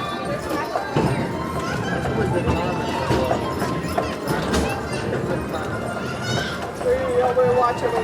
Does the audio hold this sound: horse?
yes